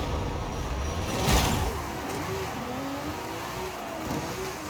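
A wheelie car's engine revs and strains in the racing game Forza Horizon 5, with rising and falling throttle pitch, a louder burst near the start and steady motor drone throughout.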